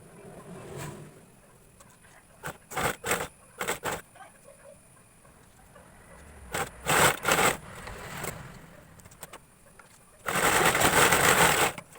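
Sewing machine stitching a skirt, running in several short bursts and then one longer steady run near the end, with quiet handling sounds between.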